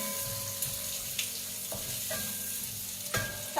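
Squid and shrimp that were already boiled are stir-fried in butter for Malaysian-style seafood aglio olio noodles. A steady, quiet sizzle runs throughout, with occasional clinks and scrapes from stirring.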